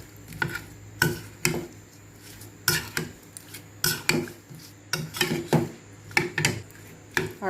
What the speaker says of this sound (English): And we're just going to mix this. Just mix until everything is incorporated.